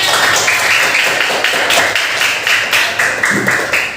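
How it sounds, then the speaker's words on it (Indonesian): Class of pupils clapping hands together in a classroom, a fast, dense patter of many small claps throughout, bright and close, with no talking. "Tepuk tangan semuanya."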